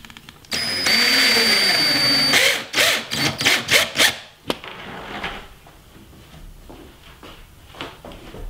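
A power drill drives screws through a piano hinge joining two wooden ping pong table tops, with a steady whine for about two seconds followed by several short bursts, then quiet handling in the room.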